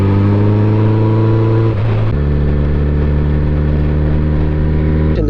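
A 2007 Yamaha FJR1300 touring motorcycle engine drones loudly at a steady throttle while riding, with a steady harmonic hum that dips briefly near the two-second mark, then settles into a lower, even tone.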